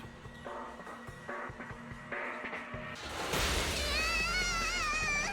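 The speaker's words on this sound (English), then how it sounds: "It's totally her chainsaw." A chainsaw in the video game Zenless Zone Zero revs up loud and close after scattered thuds and clatter, a sustained buzzing whine with wavering pitch that fills the last two seconds.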